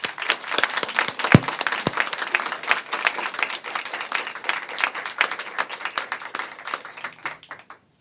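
Applause from an audience at a ribbon-cutting press conference for a Kentucky health program, dense steady clapping that fills the whole stretch, fairly loud and close, then tapering off at the end.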